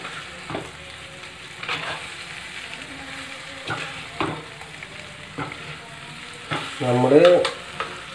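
Taro (chembu) upperi, Thrissur style, being stirred as it fries in a pan: a soft continuous sizzle broken by repeated scraping strokes of a spoon, with a brief spoken word mid-clip and a louder scrape near the end.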